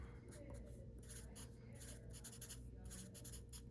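Handwriting with a pen or marker on paper, a series of quick scratchy strokes in short bursts with small gaps, faint and close over a low steady hum.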